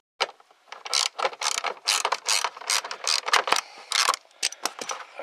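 Ratchet clicking in quick repeated bursts as a hand tool backs out the 7mm screws under the glove box of a Ford Taurus, close and fairly loud, with short pauses between runs of clicks.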